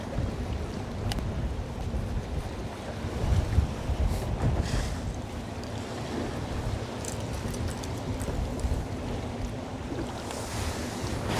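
Wind buffets a fishing boat out on the water in a steady rushing roar that hits the microphone, with faint knocks and splashes mixed in and no one speaking.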